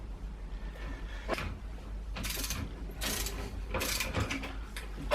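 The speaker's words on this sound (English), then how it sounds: "Get the bottom bolt, install that, and screw it in" Several short ratcheting bursts as the bottom bolt of a KTM/Husqvarna WP Xplor motorcycle fork is screwed in, close and fairly quiet, with clicking pauses between the runs of the ratchet.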